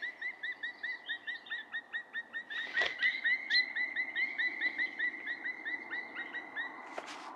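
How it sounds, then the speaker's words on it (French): Two unidentified birds flying very high overhead give a repeated series of distinct, specific chirping calls in a steady rhythm, clear and moderately distant, with no voices. "il y a deux oiseaux qui sont passés avec un cri vraiment spécifique"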